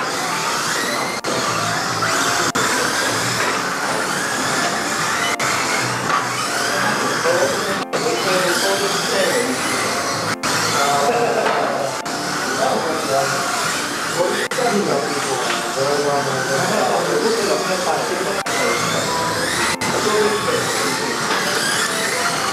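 A Mini-Z radio-controlled car runs laps on a track, its small motor whining and shifting pitch continuously over several passes while people talk over it.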